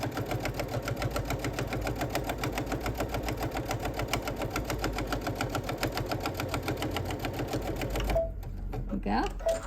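A sewing machine double stitching around a quilted mug rug runs in a steady, rapid mechanical rhythm, close and loud for about eight seconds, then stops, leaving brief handling noises.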